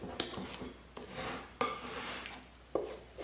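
A spoon folds a fall dessert mixture in a bowl, scraping and knocking against the sides in a few distinct clinks spaced about a second apart over a soft rustling, close up, with no voices.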